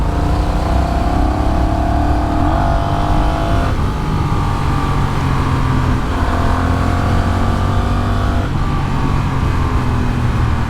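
A Honda CMX1100 Rebel motorcycle with a DCT gearbox pulls away under throttle, its engine note climbing steadily through several gear changes, loud and close with no talking.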